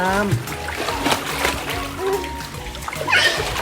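A child splashes water in an inflatable pool set up indoors, with irregular close splashes and sloshing mixed with excited children's and adults' voices talking throughout.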